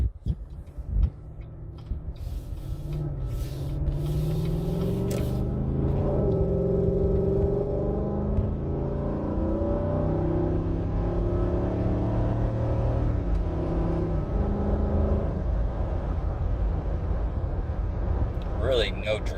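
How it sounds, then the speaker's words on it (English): A 2016 GMC Yukon Denali with a Borla exhaust and K&N intake accelerates from 0 to 70 at moderate throttle, its engine note rising and shifting through gears in a steady, continuous rumble heard from inside. "go from 0 to 70, just kind of moderate throttle"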